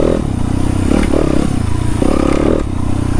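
A dirt bike engine on a night ride, running steady and loud close by with a rough, throbbing drone that surges and eases in short pulses, like throttle changes over uneven ground.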